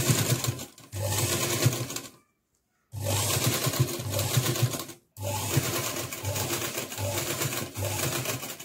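Sewing machine stitching down a neck binding strip on a girl's party frock, running close and steady in two long bursts separated by brief silent pauses, then a third continuous run, with no talk.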